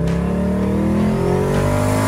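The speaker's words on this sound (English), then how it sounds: "took it around the block to make turbo noises" A turbocharged Chevrolet Nova race car accelerates around the block, its engine note climbing steadily in pitch through a loud, close rev with a rising turbo whine.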